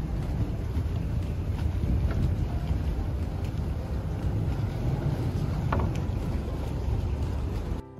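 A boat runs on open water near the airport in the Maldives. A steady motor rumble mixes with rushing water and heavy wind buffeting the microphone the whole time.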